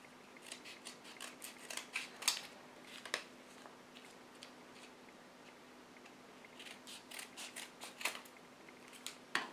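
Scissors snip paper to a point while an origami sword is being made, a string of quick, close, crisp cuts that come in two bursts separated by a short pause.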